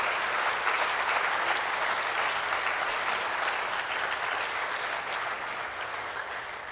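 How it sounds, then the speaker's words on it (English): Sustained, dense applause from an audience at a high school awards night, steady and loud throughout before slowly easing toward the end. "Let's give them a round of applause for their service to Millard High School"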